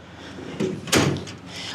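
Metal drawers on a 56-inch US General tool chest slide and shut, a soft roll then a sharper thud and a second bump, fairly close with light room noise around them.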